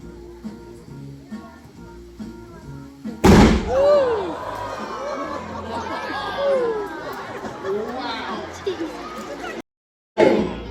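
A sealed gas-filled container fired from a barrel at a live science show bursts with one sharp, loud bang, followed by excited crowd shouts and chatter.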